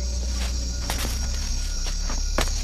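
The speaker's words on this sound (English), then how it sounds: "You're just exposed to a wonderful orchestra of different sounds, of many insects and frogs." Night chorus of insects and frogs in a Panama rainforest on Barro Colorado Island, a steady high buzzing drone with repeated sharp chirps and clicks rising above it, continuous and fairly close.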